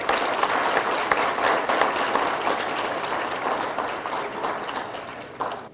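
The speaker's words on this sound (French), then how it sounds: "un applaudissement chaleureux pour eux." Warm, sustained applause for graduates from a large crowd, a dense steady wash of many hands clapping at once that holds for several seconds and thins slightly toward the end.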